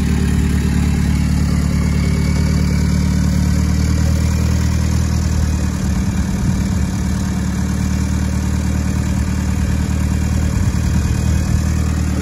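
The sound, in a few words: VW Polo TDI engine with bigger turbo, turbo whistle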